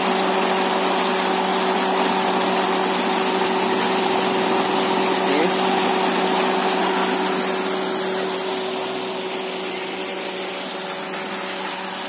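A modified 3-inch Jet 1500 water pump driven by a 2 HP engine runs steadily and loudly throughout, a constant mechanical drone with a strong hum and spray-like hiss, with no talk over it.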